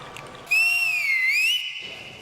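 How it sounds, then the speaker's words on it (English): A single long, shrill whistle blast with a wavering pitch, loud and steady for about a second, standing alone over faint background noise. "the whistles are back"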